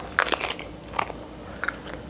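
Crisp homemade pizza with a crunchy bottom crust is bitten into close up, giving a few sharp, crackling crunches spaced out over a couple of seconds, then softer chewing.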